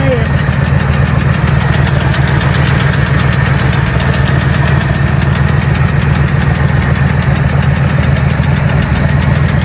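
An untested classic car engine running after being cranked, a loud, close, steady rhythmic chugging with knocking and vibration throughout.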